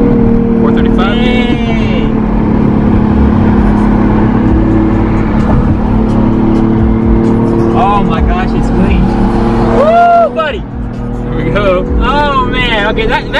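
A BMW 435 engine rumbles nearby at idle with a deep, steady drone, while several people talk excitedly and loudly over it throughout.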